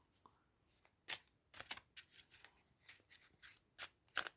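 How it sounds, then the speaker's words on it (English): A tarot deck shuffled by hand during a reading, a series of quiet, close, crisp riffling and flicking bursts in an irregular rhythm, with no talking. "Let's have another shuffle."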